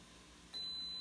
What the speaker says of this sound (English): I just said 1 minute on timer